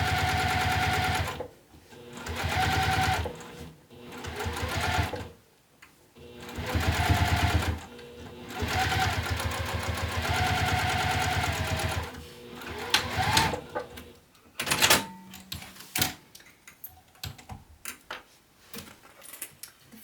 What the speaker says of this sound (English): As I'm top stitching, I'm pulling to make sure everything is nice and tight.